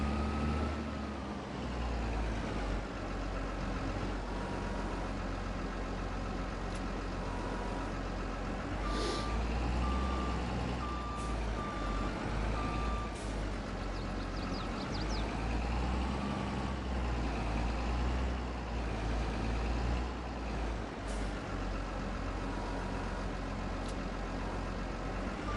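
Reversing beeps sound from a logging truck in a console logging simulation game, with repeated high pulses over a steady idling diesel engine rumble that continues throughout, and no talking.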